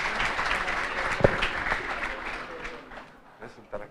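A conference audience at a panel session breaks into applause, a thick burst of many hands clapping with one sharp loud clap standing out, then gradually thinning and fading toward the end.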